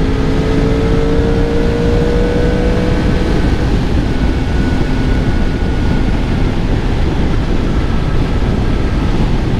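A motorcycle rides over a badly broken, rough road, its engine drone and wind rumble loud and steady throughout, with tonal engine harmonics sliding in the first few seconds.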